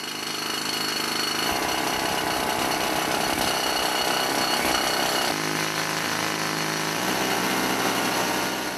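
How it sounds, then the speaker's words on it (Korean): Pneumatic rock drill with a water-fed steel rod boring under heavy pressure into hard quartz rock in an underground gold mine, a loud continuous hammering roar that holds steady, shifting pitch slightly partway through. "막대 끝에서 물이 나오는 것과 동시에 강한 압력으로 바위를 뚫고 들어가는 기계"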